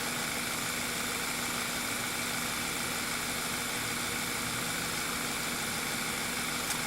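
VW 2.0 TSI engine with lean misfires and a rear main seal issue idles steadily, giving a constant, even hum with a broadband hiss and no talking.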